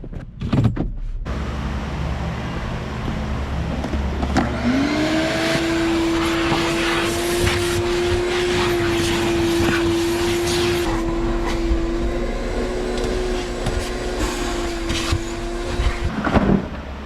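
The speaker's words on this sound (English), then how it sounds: "We'll vacuum it out and make it look perfect." A vacuum cleaner starts up and runs continuously with a steady whine, its pitch shifting as the nozzle moves across a car floor at a Chevrolet dealership, then cuts off.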